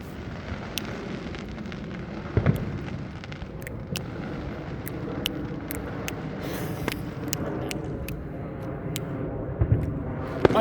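Fourth of July fireworks and firecrackers go off outdoors, heavy low booms rolling out among scattered sharp cracks and pops at middle distance, with no talking.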